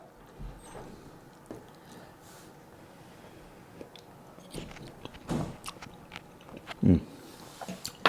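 Soft, close chewing and biting on slow cooked BBQ pulled pork in smoky barbecue sauce, with irregular squishy bites and a few louder crunchy moments toward the end, no talking.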